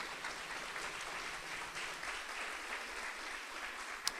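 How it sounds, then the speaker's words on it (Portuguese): A church congregation at a live Sara Nossa Terra service in Uberlândia applauds steadily, a soft, even wash of clapping from a crowd heard at a distance. "Pode aplaudir."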